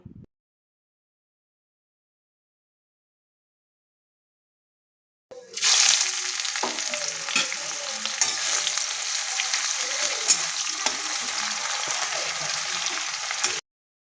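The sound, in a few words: chopped onions frying in oil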